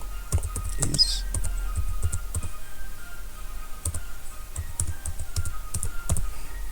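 Fingers typing a question on a computer keyboard, a steady run of close, crisp key clicks with small pauses, alone over a low background hum.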